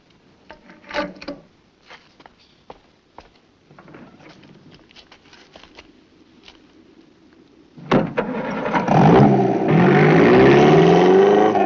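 Scattered faint rustles and knocks give way to a car engine that starts abruptly and revs loudly, then keeps roaring steadily up close as the vehicle drives off.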